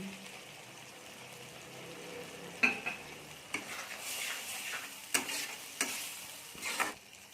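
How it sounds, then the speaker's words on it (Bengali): Lentil filling with chopped coriander leaves dry-frying in a pan, a soft, quiet sizzle broken by several spatula scrapes and knocks against the metal at irregular intervals. "এবার আমরা এটাকে একদম শুকনো শুকনো করে ভেজে নেব"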